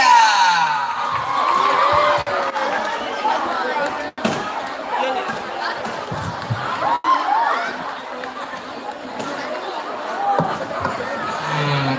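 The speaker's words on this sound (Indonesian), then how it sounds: "Beri tepuk tangan yang meriah." Crowd at a school event cheers and claps as a band's vocalist is invited up, a noisy mix of chatter, shouts and applause with a few sharp bangs, fairly close and loud.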